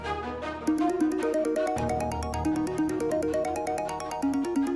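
A mobile phone ringtone plays a bright, repeating electronic melody with steady rhythmic notes, moderately loud and continuous, with no voices over it.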